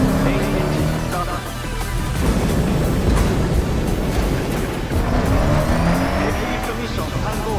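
Rocket main engine ignition in a racing video game trailer: a loud, sustained broadband roar that holds steady for several seconds, with faint voice-like tones mixed in.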